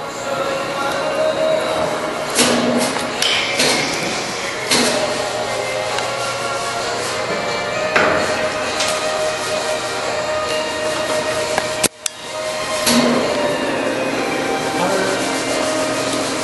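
A DeVlieg horizontal precision boring and milling machine runs steadily at 23 RPM, giving a continuous mechanical hum with occasional rubbing and knocking noises. Voices are faintly present.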